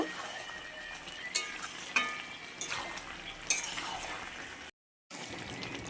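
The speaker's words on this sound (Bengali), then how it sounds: "চিনি দিয়ে দিচ্ছি চিনিটা দিয়ে আর একটু নেড়ে নেব" Coconut vegetable curry with sugar being stirred in a pan, a steady sizzle under repeated scraping strokes and light clinks of the spoon against the pan, with a brief silent gap near the end.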